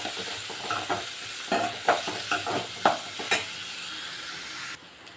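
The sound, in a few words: onions sautéing in a pan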